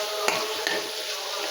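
Onion and bay leaf frying in oil in a wok give a steady, close sizzle, broken by two quick clinks of a stirring utensil against the pan.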